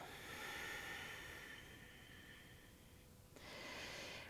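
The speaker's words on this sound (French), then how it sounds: "Expire. Inspire. Expire." Slow, deep yoga breathing during an online flow class, a long airy inhale followed by a sharp shift into a hissing exhale, close and steady with no talking.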